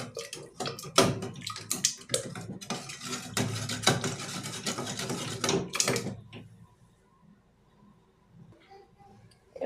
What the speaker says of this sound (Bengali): এবার এই ডাল ঘুটনিতে ডালটা একটু ঘুটে নেব।